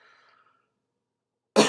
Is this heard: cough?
yes